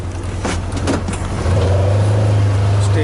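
A vehicle easing around a garden spot being disked, its engine a steady rumble that deepens and grows louder halfway through, with a voice briefly heard.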